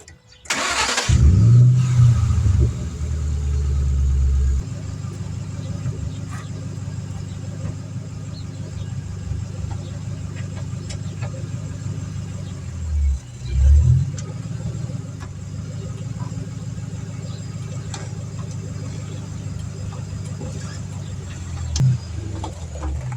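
A 2006 Mustang GT, fresh from an oil change, cranks and catches with a loud burst. It then settles into a steady, rumbling idle, with a brief swell of revving partway through and a small blip near the end.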